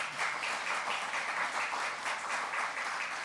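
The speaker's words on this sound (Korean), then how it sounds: "박수로 환영하겠습니다." A church congregation at a Christmas service claps to welcome newcomers, a steady wash of applause that lasts throughout with slight rhythmic swells and no talking.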